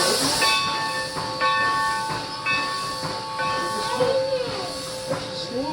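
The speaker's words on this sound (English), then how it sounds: "That's the steam." Steam hisses loudly from a train on the Connecticut Valley line, with bursts of whistle-like tones sounding over the hiss in the foreground.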